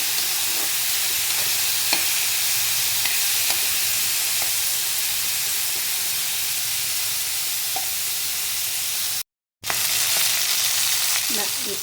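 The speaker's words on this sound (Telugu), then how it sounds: "ఇలా వేసి నూనెలో వేసుకోవాలి బాగా బాగా వేగాలి" Chopped nalleru (veldt grape) pieces fry in hot oil with a loud, steady sizzle and crackle, close up and continuous, broken once by a brief silent gap near the end.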